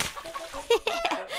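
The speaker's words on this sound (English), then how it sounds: "it's only chickens" Cartoon chickens clucking in a short burst of several quick, close clucks, with a brief voice-like sound mixed in.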